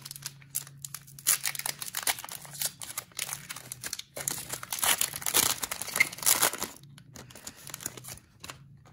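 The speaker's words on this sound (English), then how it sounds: "This pack a little hard to open." A hockey card pack wrapper being torn open with some effort, giving close, bursty crinkling and tearing of foil plastic in irregular rustling spurts with brief pauses between.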